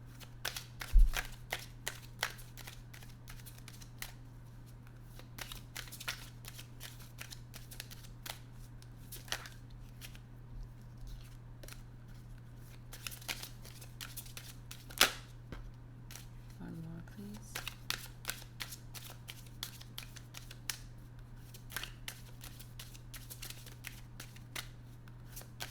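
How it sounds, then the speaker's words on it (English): Oracle cards being shuffled by hand, close and fairly quiet: repeated soft riffling and flicking of cards over a steady low electrical hum, going on for a long stretch without talk. "I'll pull 2 cards for an oracle message for you guys."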